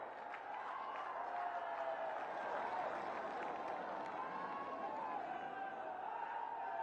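A large crowd at a Gorakhpur rally in Uttar Pradesh applauds and cheers, a sustained, moderately loud swell of clapping mixed with rising and falling massed voices.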